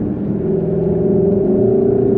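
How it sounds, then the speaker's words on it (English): A 2021 Lexus LC 500 Convertible engine hums steadily at freeway cruising speed with the roof on, a low droning tone with faint road rumble, heard from inside the vehicle. "you can hear most of the engine"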